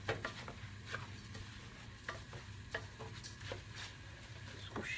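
Rice stir-fried in a pot for Somali bariis, with repeated close scraping strokes of a utensil over a steady low sizzle, fairly quiet and rhythmic, with no talking.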